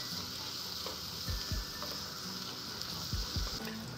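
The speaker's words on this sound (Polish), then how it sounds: "Podsmażam następne 2-3 minuty, żeby mąka nie była surowa." Flour frying with chicken hearts in a pan for goulash gives a steady low sizzle, broken by a few soft scrapes and thumps as the mixture is stirred.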